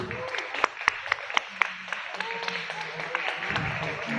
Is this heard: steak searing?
no